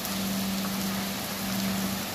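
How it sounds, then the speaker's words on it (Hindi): Rain falls in a steady, dense hiss. The wash is continuous and fairly loud, with no voices. "बारिश हो रही है भाई, देख लो।"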